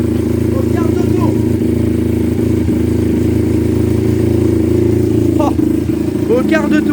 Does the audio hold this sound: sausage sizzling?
no